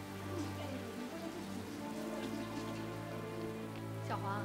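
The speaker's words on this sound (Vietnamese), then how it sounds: "Tuy đã hết gió, nhưng chị nhìn mưa này, sóng biển chắc chắn rất lớn, không chạy tàu được." Heavy rain pours steadily on surfaces near the shore on a stormy day, with the sea running rough, making a dense continuous patter with no pauses.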